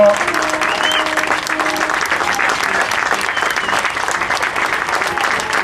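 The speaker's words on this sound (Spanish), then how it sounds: "Un fuerte aplauso." A crowd applauds loudly and continuously for the winning women's rowing crew at the Txingudi Ikurriña regatta in Hondarribia, a dense, unbroken wash of clapping lasting several seconds.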